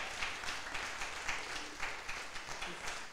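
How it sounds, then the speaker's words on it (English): Audience applause for an award winner at a college communication studies media showcase, a lively crowd clapping steadily with slight swells, with some speech mixed in underneath. "Let's give Monet a round of applause here"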